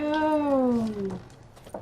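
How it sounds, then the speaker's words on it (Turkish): A single drawn-out cat meow from The Witcher 3, clear and fairly close, gliding downward in pitch, followed by a soft faint sound. "Kedi."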